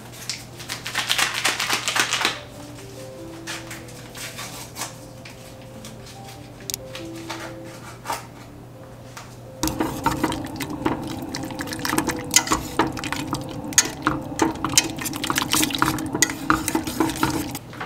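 Pectin is whisked into a strawberry jam mixture in a single container, making steady scraping and stirring sounds, first with a low hum beneath and then with a busier, louder whisking run.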